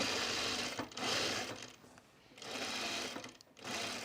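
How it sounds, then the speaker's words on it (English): A sewing machine stitches pajama pants fabric in close, steady bursts, running, pausing briefly, then running again, with no one talking. "let's just sew a little bit."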